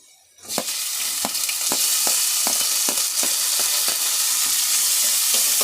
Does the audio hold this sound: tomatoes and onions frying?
yes